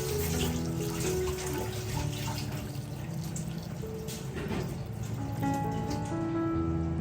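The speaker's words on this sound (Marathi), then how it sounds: "आता याच्यामध्ये आपण गरम पाणी घालूयात" Hot water pours steadily into a pot of chicken, a continuous splashing gush with shifting tone as the level rises, moderately loud and close.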